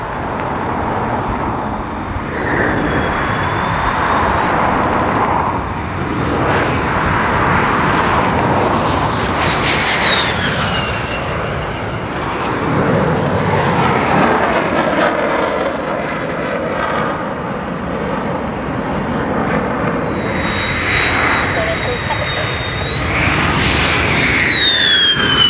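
F-15 Eagle jet fighters fly over at RAF Lakenheath, their loud, roaring jet noise rising and falling, with whining tones sweeping in pitch as the jets pass.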